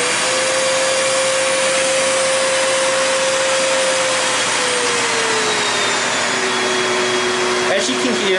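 Kenmore 81214 200 Series bagged canister vacuum cleaner running steadily up close, a continuous whirring motor hum with airflow hiss, the motor pitch sagging slightly midway before some handling clatter at the end.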